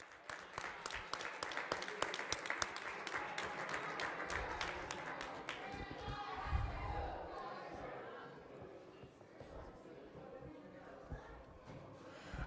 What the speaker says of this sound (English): give them one more round of applause.